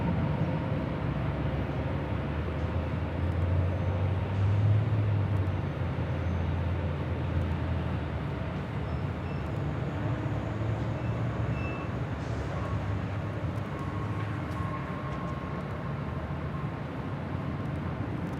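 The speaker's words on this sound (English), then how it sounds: "this is Delta Airlines Flight 2253 heading to Las Vegas in this A319" A Delta Airlines Airbus A319, 21 years old, on the runway at LAX bound for Las Vegas, gives a steady broadband jet rumble with a low drone that swells briefly, heard at a distance with no talk.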